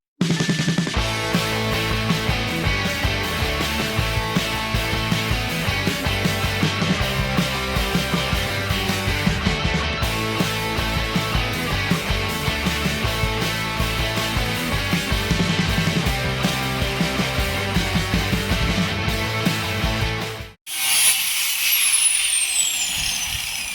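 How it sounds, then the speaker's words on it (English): A small angle grinder cuts sheet metal for 1933 Chevy running boards, a loud continuous harsh grinding whine with a sustained buzz that stops abruptly near the end, followed by a short burst of hissy scraping. "get my baby grinder"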